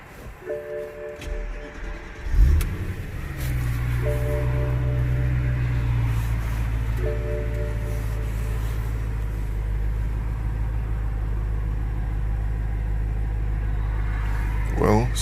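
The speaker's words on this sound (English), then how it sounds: "Maybe if I turn the car on and off." A BMW E92 M3 with a flex-fuel kit is started: a brief crank, then the engine catches into a loud, steady close idle that runs on to the end, with a short click-like sound at the finish.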